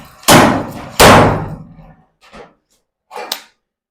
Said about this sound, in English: we're just gonna go ahead and slide hammer it.